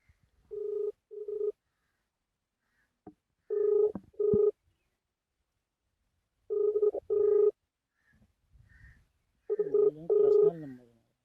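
Telephone tones on an outgoing call, heard as repeated paired ringback bursts with pauses between them, clear and close, with a brief muffled voice in a gap.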